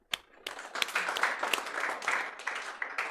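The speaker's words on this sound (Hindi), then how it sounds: "तालियां." Students in a CA Foundation economics class clap for a classmate, starting with a few scattered claps that quickly build into lively, uneven applause from the room.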